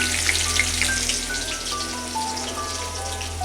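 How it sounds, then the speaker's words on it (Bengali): Onions frying in hot oil give a steady, close sizzle with a crackling hiss throughout and a few brief pops, no voices. "এই যে প্রথমে তেল দিয়ে দিলাম, এখন আমরা পেঁয়াজ দিয়ে দিলাম"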